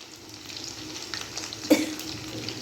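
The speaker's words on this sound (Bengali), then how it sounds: "কড়ার মধ্যে তেলের মধ্যে চিকেনগুলোকে সব দিয়ে দিয়েছি" Chicken marinated in soy sauce, cornflour, salt and egg frying in oil in a wok, a steady moderate sizzle with crackles and one sharper clatter midway, no talking.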